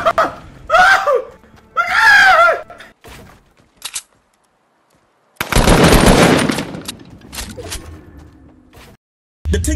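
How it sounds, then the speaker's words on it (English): Gunfire in the video game Fortnite: a dense, loud burst of rapid shots around the middle, alongside excited screaming and laughing voices in short bursts before it, with near silence between. "Who's shooting?"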